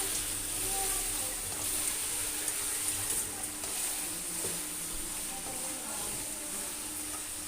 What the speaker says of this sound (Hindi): कलर चेंज होने तक हम अपनी चिकन को कुक करेंगे